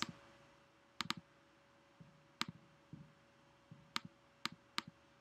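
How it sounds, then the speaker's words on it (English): Buttons are clicked during a lecture, producing scattered sharp clicks, some in quick pairs, that sound faint and close over a quiet room hum. "clicking lots of buttons furiously, so she'll eventually get to the right one"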